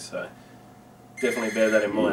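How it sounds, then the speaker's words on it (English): A home telephone rings indoors, a bright trilling ring starting partway through and running to the end, loud and close, with someone talking over it. "That's the phone."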